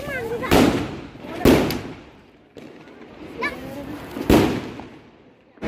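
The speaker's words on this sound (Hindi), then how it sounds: "ये पटाखे" Diwali firecrackers go off nearby in three sharp, loud bangs spaced a second or more apart, with faint voices in the background between blasts.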